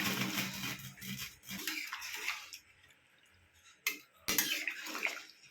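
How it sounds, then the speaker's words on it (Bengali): Meat stock is poured into a curry pot, giving a gushing, splashing stream with clinks of the vessel against the pot, a brief pause, then another burst of pouring, close but fairly faint. "এটা মাংসেরই জল আমি একটু পাতলা করে ঝোল করব দেখে আমি এই যে জলটা পুরোটাই দিলাম"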